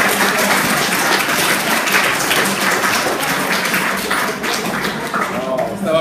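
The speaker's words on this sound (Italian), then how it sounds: "un applauso per Rapalino." Sustained audience applause at a live magic show, a dense, steady wash of many hands clapping that fills the whole stretch, with voices faintly mixed in beneath.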